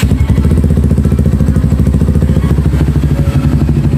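A Kawasaki Rouser NS150 motorcycle engine starts and settles into a loud, close, rapid rhythmic idle that runs steadily throughout.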